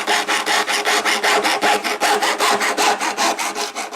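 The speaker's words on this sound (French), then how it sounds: "je vais prélever un petit bout du bout là" A small piece is sawn off a plastic welding rod on a veranda during a plastic repair. About sixteen loud, even back-and-forth saw strokes rasp close up at a steady rhythm, with no voices.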